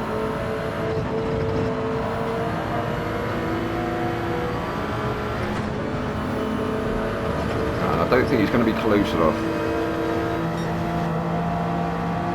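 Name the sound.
Toyota GR Supra race car engine in a racing video game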